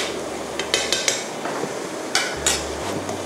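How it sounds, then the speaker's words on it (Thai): A utensil stirs sauce for stir-fried rice noodles with minced pork in a pan, giving a few sharp scrapes and clinks against the metal at irregular intervals, close and fairly loud. "ทีนี้ก็คนสักเล็กน้อยค่ะ"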